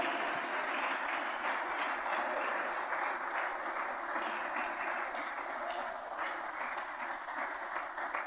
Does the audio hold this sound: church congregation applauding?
yes